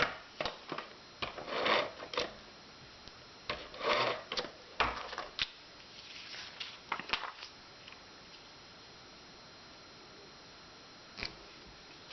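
Paper pieces for a Christmas greeting card are handled and pressed down onto the card, with close, soft rubbing and shuffling sounds that come in short bursts and then thin out toward quiet, with no talking.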